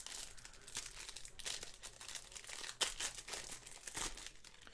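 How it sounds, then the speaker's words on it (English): A pack of Optic football trading cards is ripped open up close: continuous crinkling of the foil wrapper is broken by sharp tearing bursts, with no talking. "This is a one-pack quick rip one."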